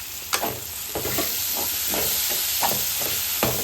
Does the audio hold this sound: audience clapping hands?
no